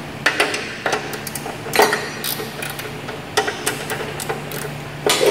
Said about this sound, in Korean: 그래서 90도를 맞추려면은 이 볼트 두 개를 풀게 됩니다.